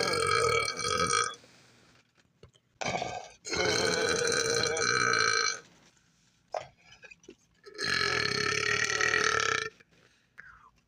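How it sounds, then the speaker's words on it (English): Several long, loud, rasping burps come in three drawn-out bursts separated by brief quiet gaps and small noises, close up and dominating the sound. "From our garbage-ass burps."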